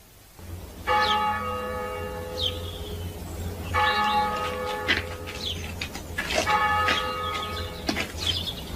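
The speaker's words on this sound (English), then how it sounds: "Toll of the passing bell." A church bell tolls slowly, three or four heavy strikes ringing out and decaying over a low steady hum, with faint bird chirps in between.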